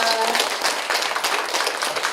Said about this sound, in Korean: 이 자리를 함께 만들어주신 여러분들을 위해서도 박수 한번 주시면서 감사합니다